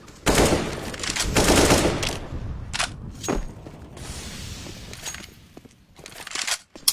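Gunfire rattles through a CS:GO tournament match, with dense bursts of automatic fire and sharp single shots, loud and close, separated by short quieter gaps and a final crack at the end.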